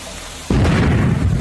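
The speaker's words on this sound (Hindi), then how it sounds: "ये दिवाली का पटाखा है। ये बहुत तेज आवाज करता है।" One sudden, loud Diwali firecracker bang goes off close by, then a rumbling, crackling tail fades out.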